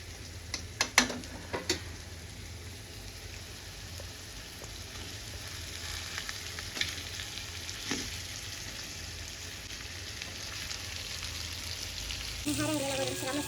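Ingredients sautéing in a pan in a home kitchen, a continuous sizzle with a few sharp stirring clatters early on and a brief louder burst at the end, no clear talking.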